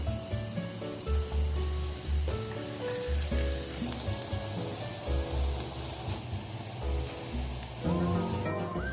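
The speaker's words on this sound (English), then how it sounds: "heat up your oil again and toss that garlic in" Garlic sizzles and crackles in hot oil in a pan, a steady close hiss that runs throughout, with soft stirring scrapes and faint background music underneath.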